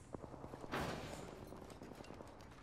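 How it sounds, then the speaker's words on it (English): Enemy gunfire in Apex Legends comes as a faint, quick string of shots with one louder blast near the start, somewhat distant and scattered, with no one talking. "The enemies are shooting at me."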